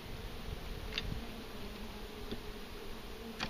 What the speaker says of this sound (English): Just bees every now and then.